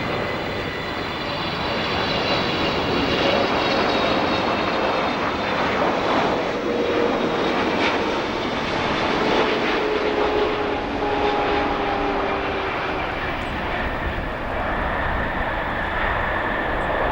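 An airliner arriving at O'Hare airport after a long-haul flight from Tokyo Narita, its engines roaring steadily and loud throughout with a rushing jet whine and no talk.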